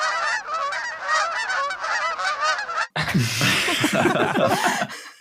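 Goose-like honking imitated by a voice, a rapid run of nasal honks, followed by a burst of laughter and chatter close by.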